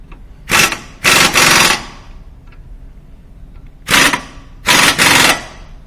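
Pneumatic impact gun working on the rear brakes of a VW Eurovan/Sharan, firing in two loud paired bursts of rattling hammering with a quiet gap between them; no talking.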